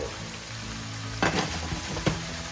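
String beans sautéing with cooked ground pork in a pan for adobo, a steady close sizzle broken by two sharp stirring scrapes, no talking.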